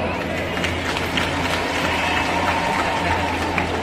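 A crowd applauds the guests on stage at a hospital inauguration event in Jeypore, Koraput: dense, steady clapping that holds at an even loudness for the whole stretch, with no voice rising above it.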